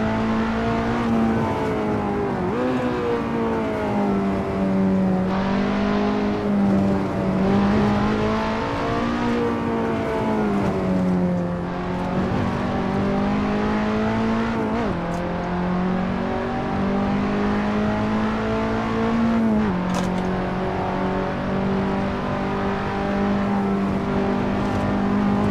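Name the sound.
race car engine roaring in Assetto Corsa video game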